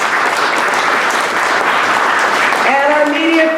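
Applause from the crowd at an agriculture industry reception, honouring the award sponsors: steady, dense clapping that holds for the whole stretch. A voice starts up near the end as the clapping carries on.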